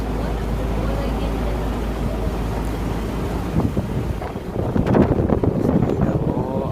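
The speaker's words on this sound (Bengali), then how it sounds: "মোটামুটি লঞ্চ যাচ্ছে" A launch boat passes along a creek in the Sundarbans, its engine a steady low rumble under wind buffeting, with a rougher, louder wash of water building toward the end and voices talking nearby.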